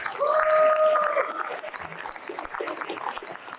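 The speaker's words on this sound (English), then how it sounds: "Round of applause," A crowd at a gathering gives a round of applause, with a sharp whistle-like tone over the clapping at first, then looser clapping and scattered crowd noise.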